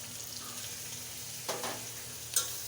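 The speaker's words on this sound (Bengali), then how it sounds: "চিংড়ি মাছটা ভাজা হয়ে গেছে, দিয়ে দিব 1 চা চামচ মরিচ গুঁড়ো" Fried shrimp cook in a pan after chili powder, fish spice mix, turmeric and salt are added, giving a faint, steady sizzle. Two short scraping clinks of stirring stand out, and no one talks.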